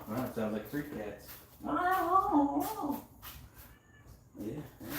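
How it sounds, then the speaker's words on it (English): Cats meow and caterwaul in drawn-out, wavering cries, one long yowl standing out in the middle, with quieter calls around it close by. "Wow, that sounds like 3 cats."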